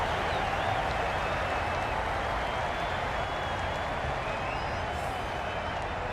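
Crowd at an IPL 2023 Eliminator cricket match between Mumbai Indians and Lucknow Super Giants in Chennai, a dense continuous roar of cheering and clapping that stays loud and even throughout, with faint whistles.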